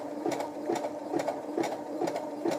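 A Brother CS 6000i sewing machine runs a zigzag stitch, its needle thumping in a fast, even rhythm under a constant motor hum, close and clear.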